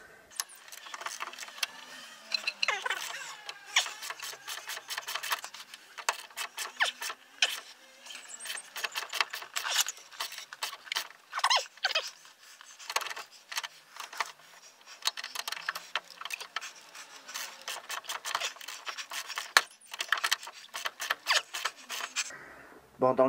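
Metal wrench clicks and scrapes while loosening a suspension ball joint bolt on a Renault Super 5, a long run of short ratcheting and clanking ticks with quiet gaps, someone talking over parts of it.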